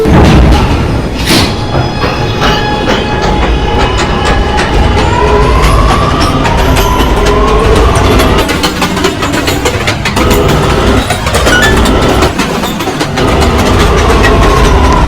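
A New York subway A train in a train video game runs steadily with loud engine drone, rail rumble and clicking, plus a faint rising whine, continuous and close throughout.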